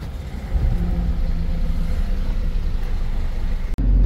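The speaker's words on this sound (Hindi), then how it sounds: "करते हैं गाड़ी को स्टार्ट।" A 14-wheel Bharat Benz truck's diesel engine turns over and settles into a steady low rumble, close and continuous, with a brief dropout near the end.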